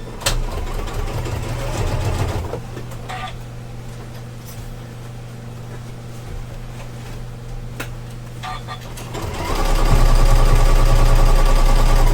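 A sewing machine runs in steady bursts while stitching a wire frame bag, its motor hum and needle chatter loud and close, pausing briefly mid-clip before speeding up louder near the end.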